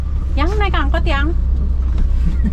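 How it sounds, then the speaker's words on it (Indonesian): An angkot minibus idles and rumbles with a low, steady engine drone on a road in Bukittinggi, Sumatra, while a voice speaks briefly over it. "angkotnya datang"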